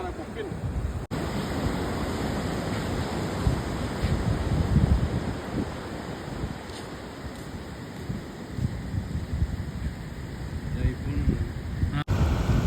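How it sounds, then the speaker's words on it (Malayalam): Strong sea waves surge out on open water during a fishing trip, a continuous loud roar of surf mixed with heavy wind buffeting the microphone, steady throughout with no talk. "കടലിൻ്റെ സ്വഭാവം ഇപ്പം മാറി അപ്പം നല്ല തിരമാലകളാണ് വരുന്നത്"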